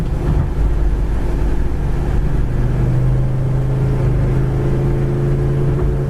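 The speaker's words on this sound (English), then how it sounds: "Really picks up speed." A white 1966 Chevy Impala Super Sport with lowered springs accelerates, heard from inside the cabin as a steady, loud low engine drone with a rising tone and little wind noise, without talk.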